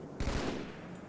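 Gunfire from a Halo game battle on the Delta Halo level at Legendary difficulty: a burst of sharp, rapid shots starts abruptly and fills most of the moment, loud and close, with no talking.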